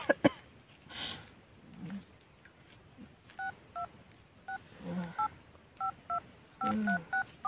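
A series of short two-tone telephone keypad beeps, irregular bursts of dialing tones pressed one after another, fairly close with some faint background noise.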